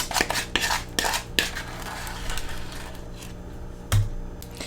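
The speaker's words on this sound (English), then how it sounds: "Then I will add in our butter and sugar mix." Ingredients land in a mixing bowl as mashed bananas and a butter and sugar mix go in, giving several close clinks and scrapes against the bowl, a sharp knock near the end, and no talking.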